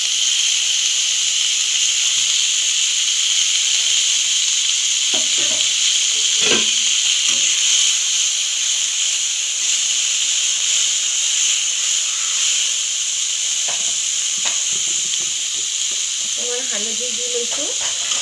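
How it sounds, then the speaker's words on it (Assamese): Chopped banana flowers fry in a pan, giving a loud, steady sizzling hiss throughout, with occasional stirring knocks and scrapes of the utensil against the pan. "এইখিনি মই কাটি থোৱা কলফুলৰ ফুলখিনি মই ইয়াতে কেঁচা গন্ধটো যোৱালৈকে ভাজি ল'ম"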